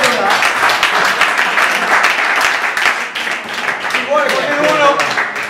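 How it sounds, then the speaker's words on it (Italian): Loud, dense clapping from a dinner crowd at a golf tournament gala, continuous with voices mixed in toward the end. "Un applauso a Paul Dorà."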